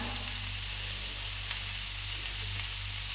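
Mackerel sizzles steadily in hot oil in a pan, prepared with green peppercorns: a continuous, close, even frying hiss with no talking.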